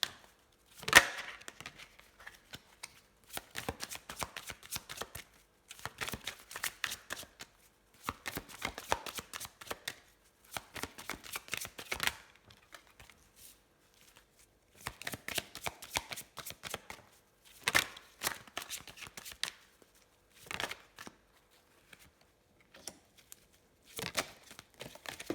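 Tarot cards are shuffled over and over in bursts of quick riffling and flicking, close and crisp, with short pauses between rounds and no talking.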